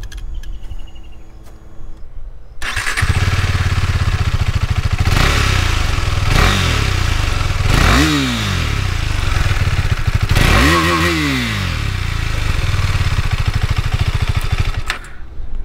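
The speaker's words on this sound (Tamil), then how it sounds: "ஸோ நெக்ஸ்ட் வந்து இந்த எக்ஸாஸ்ட் நோட், அது ஒரு கேட்டலாமா ப்ரோ?" A KTM Duke 390 motorcycle revs loudly and close by, its exhaust rising and falling through several sharp throttle blips over a steady idle rumble, with no talk.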